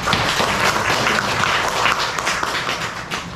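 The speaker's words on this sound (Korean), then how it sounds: "영광의 박수로 영광을 드리겠습니다" A church congregation claps together in sustained, dense applause.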